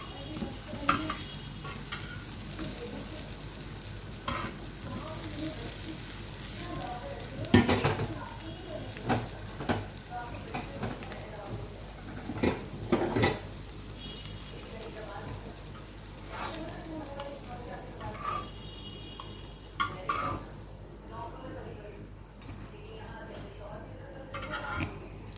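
Chicken resha kebabs frying in hot oil give a steady, dense sizzle throughout, with occasional louder stirring and utensil knocks against the pan, heard up close.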